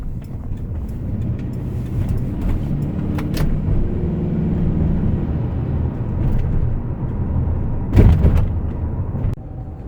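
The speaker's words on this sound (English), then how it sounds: "just driving down the road, driving through the town" A budget-rebuilt Ford truck driving through town, its engine a steady low drone with road rumble throughout, rising slightly near the end with a brief louder thump, close and fairly loud, no talking.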